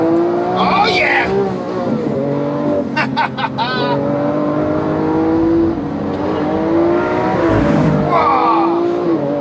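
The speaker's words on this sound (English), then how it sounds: "That V12 engine is absolutely brutal" A 2017 Lamborghini Aventador S V12 driven hard on track, engine rising and falling through gears with sharp shifts and tire squeal, loud and close, with occasional talk over it.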